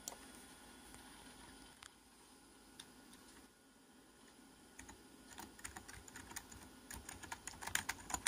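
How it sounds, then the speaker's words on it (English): Keys are pressed on a Macintosh Classic II keyboard: sparse, crisp clicks at first, growing into quicker, denser, louder tapping near the end, with no voices. "We can also test out the keyboard control with the keycaps application."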